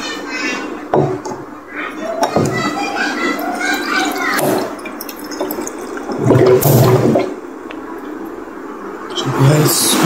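Water runs while a container is filled at home, a gushing, splashing flow rising and falling in bursts alongside clinks of dishes, with a person talking over it throughout.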